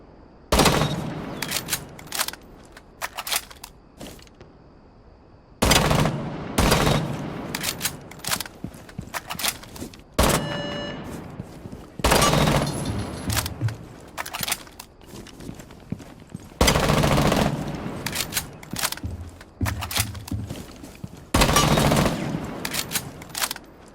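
A machine gun in Rainbow Six Siege, fired in several loud bursts of rapid shots separated by short pauses, with clicks and handling noises between the bursts.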